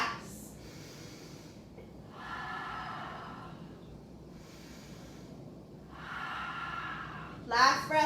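Three slow, deep breaths during a power yoga pose, each a long airy inhale or exhale close to the microphone, separated by quiet gaps and ending in a sharp snort-like breath.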